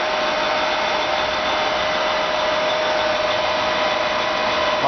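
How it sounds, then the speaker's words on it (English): An English Jones and Shipman 540 fully automatic surface grinder with a hydraulic pump runs with a steady, unbroken whirring hum at moderate volume and no voices. "English fully automatic surface grinder."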